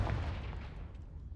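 Confringo fire spell cast in the video game Hogwarts Legacy: a loud, rumbling blast with a booming low end that sustains and slowly fades over about a second and a half, with no talk.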